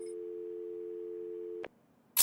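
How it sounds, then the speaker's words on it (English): A telephone in Batman: Arkham City gives a single steady electronic tone that cuts off abruptly, followed by a short silence and a sudden burst of noise. "There's a phone ringing somewhere."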